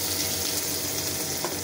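Onions frying in a pan while pigeon is being cooked, giving a steady, close sizzle that runs unbroken without voices.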